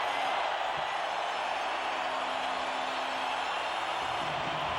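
A Colorado Avalanche home crowd at the Pepsi Center roars as an NHL playoff game against the Dallas Stars heads to overtime, a steady, loud wash of cheering filling the arena throughout.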